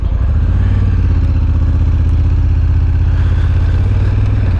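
A Honda Africa Twin DCT motorcycle engine runs close and loud with a low, throbbing pulse, a steady mechanical rumble as the bike pulls away.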